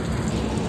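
Rain pours steadily in a broad, dense, even wash of noise, close and moderately loud, with no voices over it.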